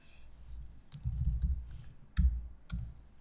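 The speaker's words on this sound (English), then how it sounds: "So we're going to type in the app name that we actually created for our website" Several separate keystrokes on a computer keyboard, typed while entering an app name during a Windows Azure web site setup, close and fairly soft with brief pauses between them.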